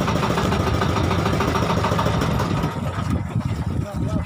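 A boat engine on a needlefish fishing trip idles loudly and steadily close by, then drops off and fades near the end as the motor is shut down.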